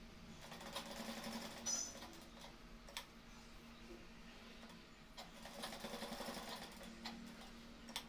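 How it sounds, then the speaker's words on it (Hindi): Sewing machine running steady bursts of double stitching on a kurta stand collar, a quiet rhythmic mechanical whirr with ticking needle strokes, fairly faint and close, with no talk. "मजबूती के लिए बिल्कुल टाके ऊपर टाके डबल सिलाई डाल रहे हैं।"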